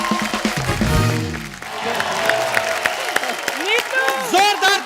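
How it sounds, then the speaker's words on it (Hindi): Studio audience applauding on a comedy talk show: a steady wash of clapping and crowd noise running beneath a loud voice and musical tones throughout. "प्लीज तालियां बजती रहे।"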